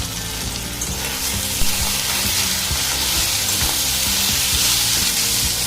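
Chili, coriander and cumin powder frying in a pan with a steady, dense sizzle and occasional stirring scrapes, close and continuous throughout without any talk.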